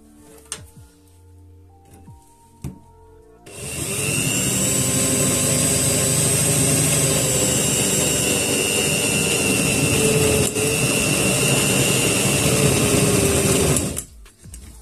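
Drill bit boring into stainless steel with a little oil added to keep the bit cool, a steady loud whining grind that starts abruptly and runs continuously for about ten seconds before stopping.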